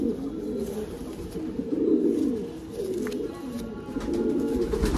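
Pigeons kept at a house for sale, Lalduma and Kalduma breeds, give soft, rolling low coos in repeated swells, faint and close over a steady background hiss, with no talking.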